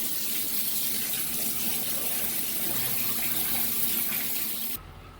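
Hot water gushes steadily from a faucet while flushing a water heater, a constant rushing stream, then cuts off abruptly near the end.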